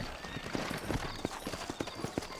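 Horse hooves clip-clop in a steady, close rhythm as horses are driven through New Orleans in a video game, the hoofbeats evenly spaced over a low background bed.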